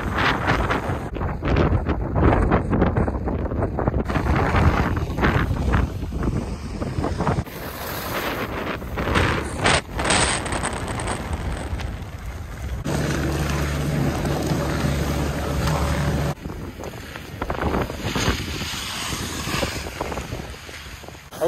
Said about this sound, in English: I think there's like 30-mile-an-hour winds still.